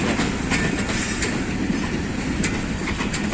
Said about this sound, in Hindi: मिल्लत एक्सप्रेस पहुँच रही है फैसलाबाद जंक्शन।